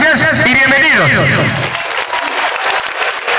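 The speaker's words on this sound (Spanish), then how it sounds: "Fuerte los aplausos." Students at a public school in Chancay applaud loudly at the opening of the academic year, with a voice speaking over the start before the clapping and crowd noise take over.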